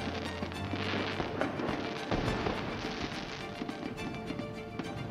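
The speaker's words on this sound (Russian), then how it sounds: "Вечером того дня в Москве впервые прозвучали залпы праздничного салюта." Celebratory fireworks salute volleys in Moscow in August 1943, heard as a dense, continuous crackle of distant bursts and rumbles in an old, noisy archival recording.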